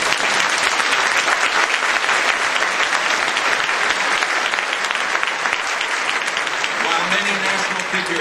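Sustained, loud applause from a large audience at a gathering, a thick, even roar of clapping that holds steady throughout without a break.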